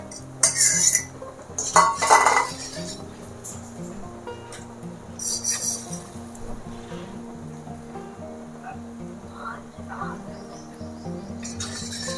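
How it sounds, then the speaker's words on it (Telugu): Egg being stirred in a pan for egg noodles over a high flame, with loud, close metallic scraping and clatter of a utensil against the pan in irregular bursts, then quieter stretches over a steady hum. "ఇలాగా తిప్పుతూ ఉండాలి అవి పీసెస్ లాగా అవుతాయి అన్నమాట"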